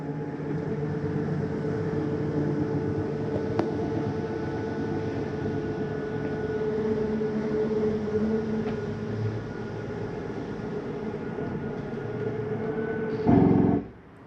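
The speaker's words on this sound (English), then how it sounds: "you hear that noise. That's just the slide mechanism saying I'm all the way out." Steady mechanical motor whir and hum of the slide-out on a 2024 Flagstaff Microlite 25FKBS travel trailer extending, ending with a brief louder clunk as it reaches full extension; close, continuous, no voices.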